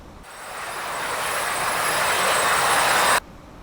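Saab Sk 60 jet engine in a flight simulator game throttling up, a loud steady broadband roar with a thin high whine that swells gradually for about three seconds, then cuts off abruptly.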